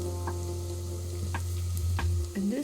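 Onion and ash gourd frying in a little oil with cumin and curry leaves, giving a steady sizzle under a low hum, with a few soft stirring clinks and no talking.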